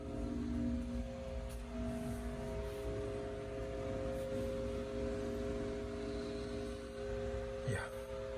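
A Chevrolet C10 short-bed truck engine idles steadily at close range, a low droning hum with stable tones throughout and a brief rising swish near the end.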